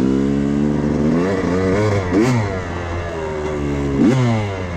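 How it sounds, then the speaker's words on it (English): A Honda CR250 dirt bike being broken in on a trail runs loud and close, its engine note rising and falling as it revs through a couple of throttle blips. "Man, this bike is running clean."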